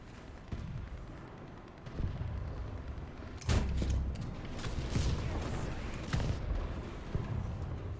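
Tank guns fire in War Thunder played in VR, with several heavy booming shots at uneven intervals, the loudest near the middle, over a low rumbling battlefield bed.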